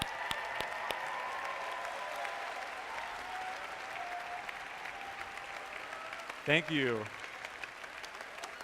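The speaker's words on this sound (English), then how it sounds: "can we give them a round of applause?" A university audience applauds student program leaders at a welcome event, a continuous, fairly distant round of clapping and crowd noise, followed near the end by a brief spoken thanks close up.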